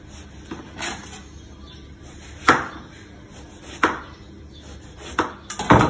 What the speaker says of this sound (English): First we need to slice the eggplants.